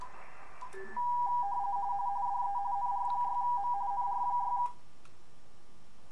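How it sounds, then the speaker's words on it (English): Digital mode signals on the 20 meter amateur radio band, a steady warbling tone over receiver hiss, starting about a second in and running for several seconds before cutting off, loud and alone. "you're hearing some digital signals right now"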